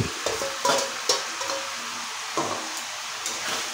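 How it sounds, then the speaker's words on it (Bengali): Prawns fry in a pan for a Bengali mocha chingri ghonto, giving a soft sizzle broken by several sharp scraping and clattering stirs of a spatula, close and without speech. "চিংড়িটা দিয়েও ভালো করে কষিয়ে নিচ্ছি একটু।"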